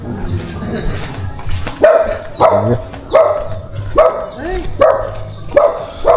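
A dog barks repeatedly in sharp, evenly spaced yaps out on a farm, loud and close, while several people chat in the background.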